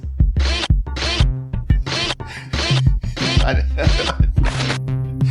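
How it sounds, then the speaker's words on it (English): Harsh, screechy mechanical sound-effect bursts of robot joints repeat in quick succession, loud and close, like grinding robot joints squealing over and over. "some more robot screaming joints."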